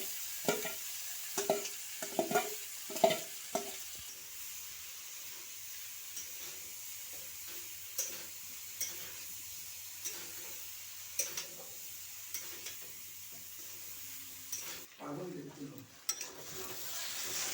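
Soybean chunks and potato frying in oil with halved dried chillies, a soft steady sizzle with intermittent stirring clatter, fairly quiet, ending in a brief louder burst of spitting oil.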